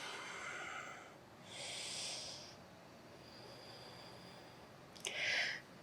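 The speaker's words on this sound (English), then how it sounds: "Deep breaths." Slow, deep breaths during a morning yoga practice, with soft airy inhales and exhales rising and fading in a gentle rhythm, close and faint against a quiet room.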